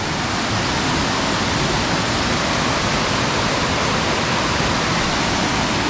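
An unnamed creek, a tributary of Finch Hatton Creek, flows steadily with a dense, even rushing of water close by, unbroken and with no voices.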